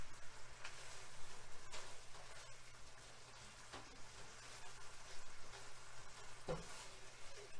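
A spatula scraping through thickening curry sauce with cheddar and green onion in a pan, soft quiet bubbling and sizzle with a few faint scrapes and ticks, close up, no voices.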